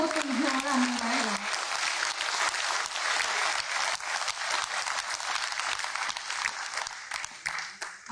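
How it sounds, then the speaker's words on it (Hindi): A large crowd at a poetry recital claps in a sustained, dense burst of applause that carries on evenly throughout, with a voice speaking briefly at the start. "एक बार इन तालियों का धुन और बड़ा हो तो मुझे और आनंद आएगा।"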